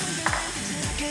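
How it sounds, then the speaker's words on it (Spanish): Garlic frying in a pan for beef liver steak, a soft continuous sizzle with a couple of faint stirring scrapes, close and low in level. "aquí estamos friendo un poquito"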